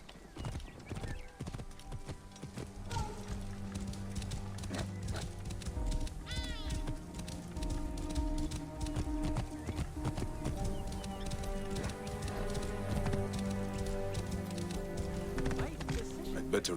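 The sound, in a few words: horse hooves and whinny in video game Assassin's Creed Origins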